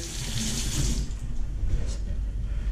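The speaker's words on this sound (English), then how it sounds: "Give it a quick wash if you have to." Squid being rinsed under a running kitchen tap, a steady close splash of water into a sink that continues throughout, with no talking.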